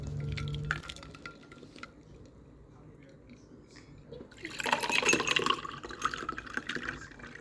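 Liquid being poured and stirred to make a lemon juice drink in a home kitchen; a quiet stretch gives way to a louder, bright splashing and clinking run of pouring and stirring in the second half.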